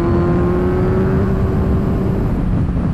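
Kawasaki Z1000 with a 1043cc inline-four engine accelerating hard, a loud, steady, close engine roar with a rising whine through the whole stretch, and no voices.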